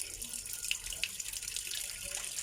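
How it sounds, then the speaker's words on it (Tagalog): Water streams steadily from a tap, splashing and gurgling as it fills a cooking pot, continuous and close. "Lagay lang po tayo dito ng isang punong tubig."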